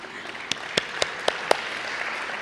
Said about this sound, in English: We'll applaud you each separately.